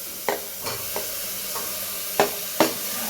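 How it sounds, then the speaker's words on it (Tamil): Pieces of mutton dropped into a frying pan of ginger masala and stirred, making several sharp scraping knocks spaced across a few seconds over a soft, close sizzle, with no voices. "கறி இப்போ போட்டால் தான் உடையாமல் இருக்கும்."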